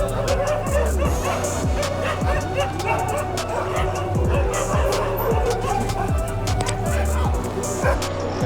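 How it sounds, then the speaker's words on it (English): A pack of many dogs barks, yips and whimpers excitedly while chasing a tuk-tuk through a street in Varanasi, India, with overlapping close and distant barks over a running engine and traffic noise. "Created some huge fights next to the tuk-tuk. Like 20 dogs or 15 dogs were running after us."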